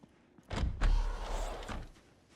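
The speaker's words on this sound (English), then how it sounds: "A loud noise I was not expecting. The sliding door noise." A sliding door opening in the video game Project Zomboid gives one loud, rumbling thud with a couple of heavy bumps, lasting about a second and a half before fading out.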